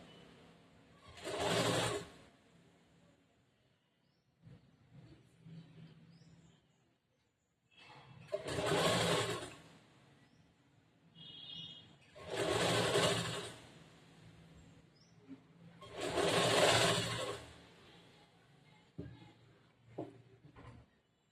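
A sewing machine stitches piping onto a blouse neckline in four short bursts of rapid whirring, each a couple of seconds long, separated by quiet pauses with faint handling noises.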